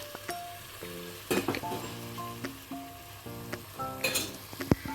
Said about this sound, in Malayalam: ഇനി നമുക്ക് ശർക്കരപ്പാനി ഒഴിക്കാം